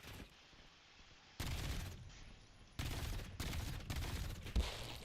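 Incoming gunfire in a video game, loud dense bursts of rapid shots that kick in sharply after a quiet start, pause briefly, then return as a sustained, crackling barrage running to the end with no talking.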